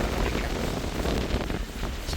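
Strong wind gusts buffet the microphone on a coastal beach in Jaffna during a low-pressure storm, a loud continuous roar with surf-like rumble underneath and no speech.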